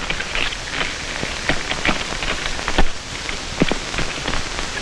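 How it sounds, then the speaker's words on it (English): Rain pattering steadily outside in an old Buster Keaton sound film, a dense hiss of drops with scattered sharper taps and splashes throughout. "It must be raining out, isn't it?"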